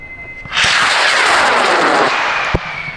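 A high power rocket launches at an outdoor rocket meet in Argonia, Kansas, bursting into a loud, sustained roaring rush of motor thrust that lasts about two seconds before tapering, with a sharp crack near the end.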